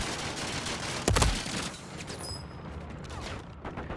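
A shotgun blast in a shooting video game, one loud, sharp report near the start followed by a lingering echoing tail and low background noise.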